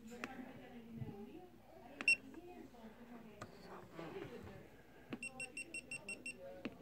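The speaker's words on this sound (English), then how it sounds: "I know, you heard it beeping." A short electronic beep from a GoPro camera near two seconds, then a rapid run of about seven evenly spaced high beeps near the end, heard under steady talking.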